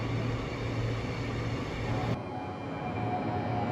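A Perth suburban train sits idling at a station at night, a steady low mechanical hum and hiss with a faint high whine that drops away partway through.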